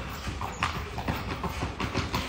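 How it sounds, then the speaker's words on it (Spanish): Saddle horse clip-clopping steadily as it is ridden at a stable, hoofbeats fairly close and rhythmic over a low background murmur. "Este es un caballo de silla que lo puede montar, vea, cualquiera."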